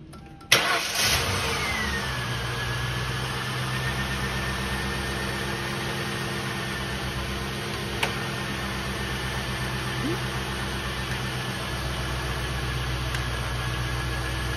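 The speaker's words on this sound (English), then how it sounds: "I'm gonna go fire up the engine." A car engine cranks and catches about half a second in, then settles into a steady, fairly loud idle that runs on alone during an alternator load test with a carbon pile tester, with a faint tone from the tester.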